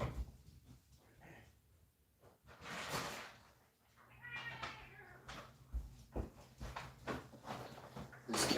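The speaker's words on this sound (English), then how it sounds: "This cat will cry for dry food after he eats wet food, like a lot." A hungry house cat meows insistently for dry food right after eating wet food, several short cries spread across the clip amid faint household rustling and clatter, fairly close but soft.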